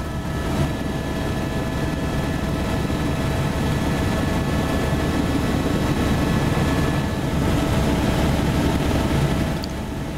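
Continuous, steady rotor and engine drone of a helicopter flying from a heliport south down the channel toward Juneau's city centre, loud and unbroken throughout with no talking.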